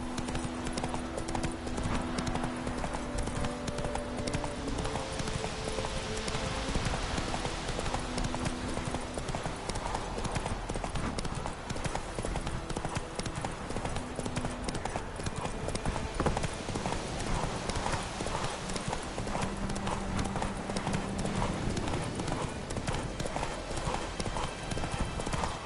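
Horse Roach's hooves clip-clop steadily in a PS4 video game, a continuous trotting rhythm over dense background game sound and rain-like noise, with a voice speaking briefly.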